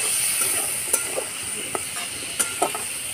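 Spices with turmeric frying in a pan, a constant bright sizzle close by, with a few light scraping stir strokes from a spatula.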